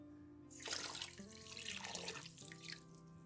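Water pours steadily into a pot of sugar on the stove for a few seconds, a splashy rushing stream that tapers off near the end.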